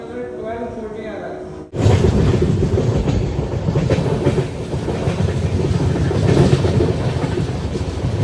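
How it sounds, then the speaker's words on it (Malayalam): A train rumbles along steadily through heavy rain with heavy, continuous low roar and rattling after a brief quieter opening, loud and close throughout. "നമ്മൾ ഈ ടൈമിലൊക്കെ ട്രെയിനിൽ യാത്ര ചെയ്യുമ്പോൾ ഇങ്ങോട്ടൊക്കെ മഴ വെള്ളം വരുന്നുണ്ട് ആണോ ജമുന"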